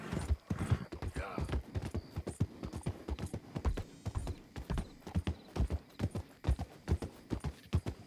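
Horse hooves galloping at a steady rapid rhythm in the Western video game Red Dead Redemption 2, close and fairly loud, with regular thudding beats throughout.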